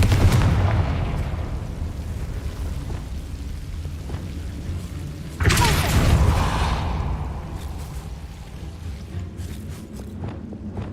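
A Confringo fire spell in the Hogwarts Legacy video game explodes with a sudden loud burst that decays over a few seconds, over a rumbling game soundscape of footsteps and low ambience.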